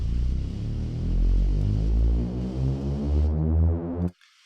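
A synth riser built in the Vital synthesizer with an LFO-driven sweep: a dense, buzzing harmonic tone with a pulsing, wobbling texture that holds for about four seconds and then stops abruptly.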